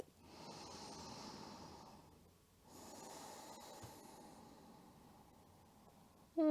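A long, slow breath during a gentle hip-opening yoga flow, a steady airy inhale with a short pause before a second drawn-out exhale, soft and close-miked with no talking.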